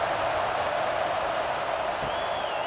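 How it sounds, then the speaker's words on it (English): A stadium crowd at kickoff in College Football 26, LSU against Arkansas, forming a steady broad roar of cheering and applause that holds at an even level throughout. "you think this crowd's going to get loud when their defense comes on the field?"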